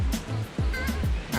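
Broadband rushing water, likely a river flowing at the border between Torremolinos and Benalmadena, a steady close wash with a voice speaking briefly over it.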